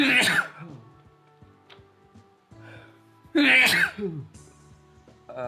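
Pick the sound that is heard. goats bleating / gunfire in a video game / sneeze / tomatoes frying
sneeze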